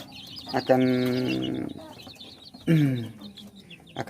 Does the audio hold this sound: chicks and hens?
yes